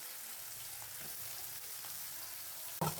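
Ground spice paste frying with onion and tomato in a pan for a Bombay duck fish curry gives a steady, soft sizzle, ending in a brief clatter.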